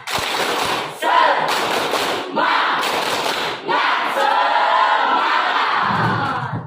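A classroom of schoolchildren performs the rhythmic 'tepuk semangat' spirit clap together, loud bursts of group clapping and shouting in several sections, with children's voices mixed in.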